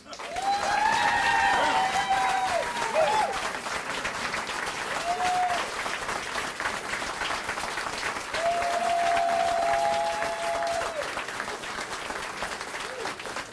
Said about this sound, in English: let's give one more round of applause for Carrie, Victoria, Raquel, and Yancy, and all of our performers tonight